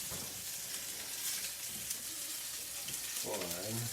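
A whiskey-marinated steak sizzles under a kitchen oven broiler, a faint steady hiss and crackle, with a voice talking briefly near the end.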